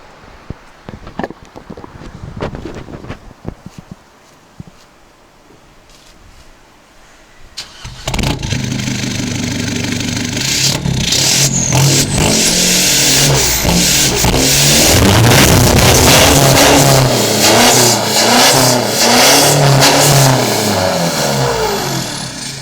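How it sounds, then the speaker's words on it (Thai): A car engine starts over quiet background noise, then revs repeatedly through a rear-exit exhaust pipe, loud and close, with rising and falling throaty bursts. "เดี๋ยวผมจะให้ลองฟังเสียงท่อออกท้ายดูนะครับ"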